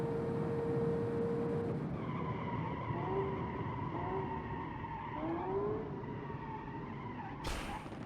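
Tire blowout and skid in a racing video game with a V8 car, heard as a sustained squealing, wavering tone over steady engine roar, ending in a brief sharp burst near the end.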